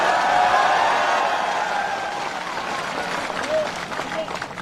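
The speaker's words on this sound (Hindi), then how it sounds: "इस पर ताली मारिए" A crowd at a political rally applauding, with a burst of clapping and cheering that starts loud and gradually thins out, with faint voices mixed in.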